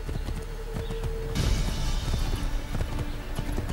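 Horse hooves clip-clopping in the video game Assassin's Creed III, a close, rhythmic trot that grows louder and busier partway through.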